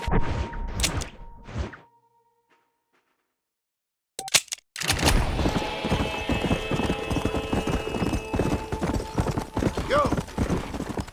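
A horse gallops in Red Dead Redemption on PS5, with steady hoofbeat clip-clops after a short silence, close and continuous, while a rider urges it on and a brief whinny-like sound is heard.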